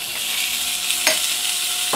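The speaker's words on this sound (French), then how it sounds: "Maintenant, je vais introduire la viande" Meat and onion sizzle steadily in a hot pan, with a few sharp stirring scrapes along the way.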